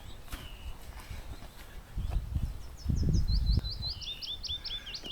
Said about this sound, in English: I can hear a song thrush.